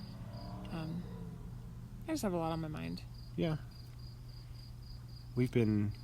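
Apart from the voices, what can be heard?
crickets chirping at night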